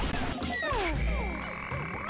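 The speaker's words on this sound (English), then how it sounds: "The frog's going to want to fight." Deep, rolling croaks from a frog creature in Pikmin sound loud and close, layered over swooping game tones and background music with no pauses.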